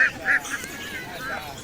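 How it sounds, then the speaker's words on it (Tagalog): Ducks on a farm in Kuwait give a few nasal quacks in quick succession, moderately close, then fade under a murmur of outdoor background noise. "Ayan, mga pato na yan."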